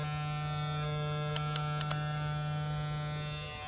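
Gamma+ Golden Gun hair trimmer running steadily, a close, even electric motor hum with a low buzz, broken midway by a few faint clicks, with no talking.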